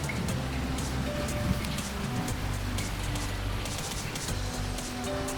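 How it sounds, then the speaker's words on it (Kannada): Heavy rain pours down in a place with very high rainfall during the first rain of the year, a dense, continuous wash of hiss and patter with a low steady rumble, no voices. "ಇಲ್ಲೆಲ್ಲ ನೋಡಿ ಮಳೆ ಎಲ್ಲ ಹೆಂಗೆ ಫೋರ್ಸಾಗಿ ಬರ್ತಿದೆ ಅಂದರೆ"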